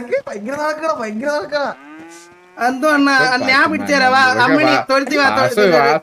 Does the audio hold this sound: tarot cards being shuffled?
no